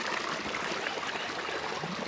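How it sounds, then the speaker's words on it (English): Creek water rushes over small rocky cascades in a forest, making a steady, even broadband wash that stays fairly soft and continuous throughout, with no voices. "This creek is full of these little"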